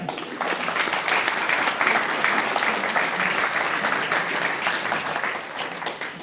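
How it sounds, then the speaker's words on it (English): Audience at a Guide Dogs for the Blind graduation ceremony claps steadily in a dense, sustained round of applause that fills the room from start to finish, with no voices on top. "It's the largest bequest in GDB history, so let's applaud that"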